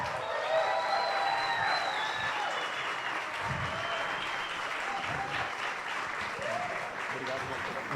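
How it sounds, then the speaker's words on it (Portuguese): A seated audience at an education talk gives guest Tião Rocha a sustained round of applause, even and continuous throughout, with a voice briefly audible over the clapping. "Mais uma salva de palmas aqui para o Tião"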